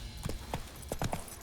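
Brief burst of Roach's hooves in The Witcher 3, a few quick, close clip-clop thuds from the game horse, fairly loud over a dense background.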